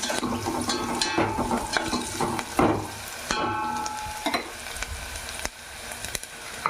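Capsicum and other vegetable pieces frying in a pan for veg lemon rice, a steady close sizzle with scattered clinks and scraping stirs throughout.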